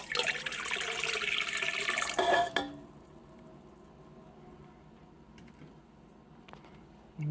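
Water pours into a mixing bowl while soft pretzel dough is being made, a steady splashing stream for about two and a half seconds that stops abruptly, leaving quiet kitchen room tone with a couple of faint knocks.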